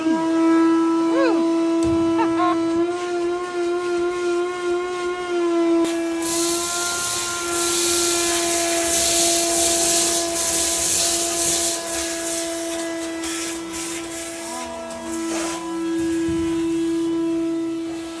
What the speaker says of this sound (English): now he's gonna vacuum the rest.